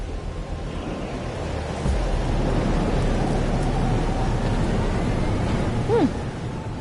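A thunderstorm in the video game Life is Strange: Double Exposure, with steady heavy rain hissing and a low rumbling roll of thunder that swells midway, all without speech.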